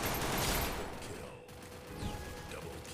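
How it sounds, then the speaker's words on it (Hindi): Rapid pistol shots in a Free Fire Clash Squad match, a short burst of sharp cracks with a crash at the start, heard under steady game noise. "तो मैं पिस्टल से उसे मारने की कोशिश करता हूँ"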